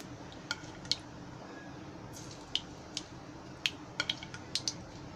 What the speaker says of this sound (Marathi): आता मी गॅस बंद करते आणि हे तेल आहे ना मोहरीचं या वडीवर टाकते.